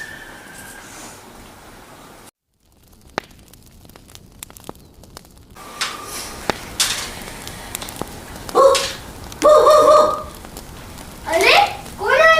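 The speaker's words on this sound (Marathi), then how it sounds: "कुत्रे भुंकत काय" Dogs bark in a cold night scene near a small campfire, several sharp barks and yips sounding later in the stretch, mixed with crackling and people talking.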